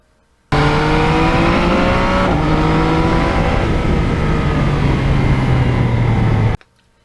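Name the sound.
2020 Yamaha MT-09 motorcycle riding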